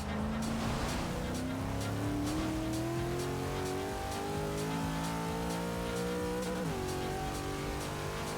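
1963 Volkswagen Type 2 De Luxe on a racing hotlap, its engine droning steadily with rising and falling revs through gear changes, a sharp dip and recovery near the end, loud and continuous throughout.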